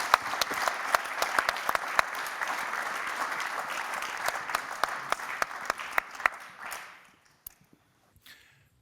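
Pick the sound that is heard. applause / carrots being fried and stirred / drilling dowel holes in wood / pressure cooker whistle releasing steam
applause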